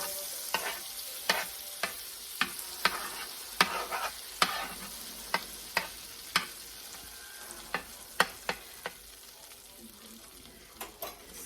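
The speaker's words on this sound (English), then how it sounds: "A lot of butter. You can hear it sizzling." Butter sizzling in a cast pan being readied for cornbread batter, a steady close frying hiss broken by regular sharp clicks and scrapes of a utensil stirring, with no talk.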